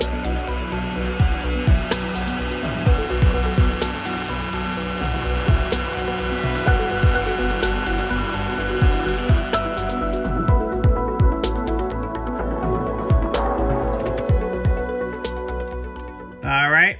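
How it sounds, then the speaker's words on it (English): A cordless drill whirs steadily into material while building a tile shower, the motor pitch wavering with short pauses and clicks throughout, close and fairly loud. "You can do this with a cordless drill."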